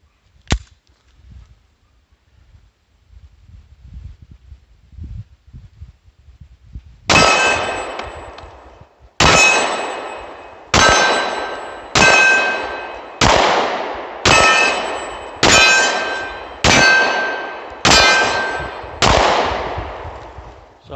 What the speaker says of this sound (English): we're just going to shoot at our bigger gong down there and see how we do